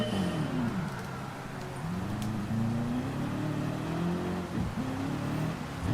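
Several race car engines rev and rise in pitch together on the Nürburgring Nordschleife grid in a racing video game, a dense, steady, close engine drone with rising and falling whines throughout.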